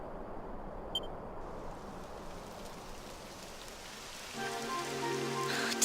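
Steady rain patters softly throughout in Dragon Quest XI, with a brief beep early on and a brighter tonal layer rising near the end.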